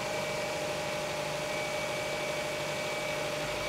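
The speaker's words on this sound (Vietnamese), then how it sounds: "Máy quá êm luôn. Em mở nắp cò anh em xem nè." A car's 2.0-litre petrol engine idles with the hood open, a smooth, steady low hum with a faint constant whine, close and unchanging, no voices.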